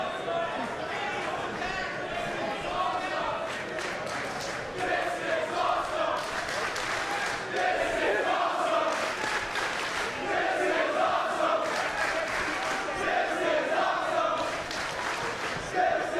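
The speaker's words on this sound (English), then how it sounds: "Crowd shows their appreciation as Penta into the corner" Wrestling arena crowd at a Penta versus Sami Callihan match, a steady dense roar of cheering and chatter with shouts rising and falling throughout, loud and continuous.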